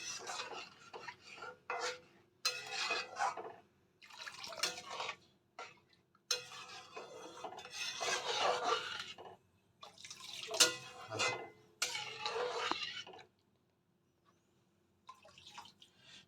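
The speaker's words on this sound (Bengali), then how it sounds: "এবার আমি এখানে জল অ্যাড করে দেব" Water poured into fried masala in a pan while cooking a Bihari-style rui fish curry, with intermittent splashing, sizzling and utensil clatter in short bursts, close up, ending with a pause and faint stirring.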